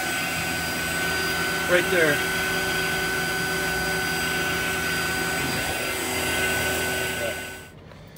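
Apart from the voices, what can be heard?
Fieldpiece VP85 8 CFM vacuum pump running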